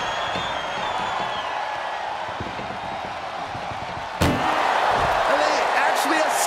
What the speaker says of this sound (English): Trying to at least slam one door shut